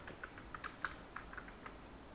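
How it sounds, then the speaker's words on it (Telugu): Light typing on a computer keyboard, with a quiet run of irregular individual keystroke clicks and one sharper tap, heard alone at low level. "కాంటాక్ట్ నెంబర్ అని రాశాను, రాసి ఓకే బటన్ మీద క్లిక్ చేస్తున్నాను"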